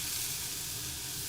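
Food sizzles loudly and continuously in a hot pan while char kway teow is cooked, a dense close hiss with no talking.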